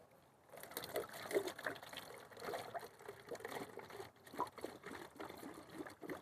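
Fresh date palm sap pours outdoors in Saudi Arabia, a faint, irregular trickle and splash rising and falling over a few seconds.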